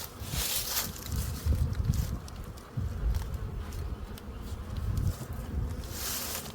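Honey bees swarm around an opened hive in spring, feeding on fondant, their buzzing a steady close drone broken by low rumbling handling and wind noise.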